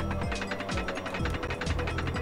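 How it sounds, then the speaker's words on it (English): A slow mechanical shutter effect from the video game Mario Goldeneye, with ratcheting, gear-like clicks and repeated descending whirs running steadily and loudly under a dense game soundscape. "There's a really cool, like, shutter sound that comes up here."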